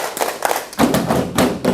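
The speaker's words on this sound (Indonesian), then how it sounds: "Tepuk 3." A small group in a classroom clapping hands in time, several sharp claps in a quick rhythmic pattern, close and fairly loud.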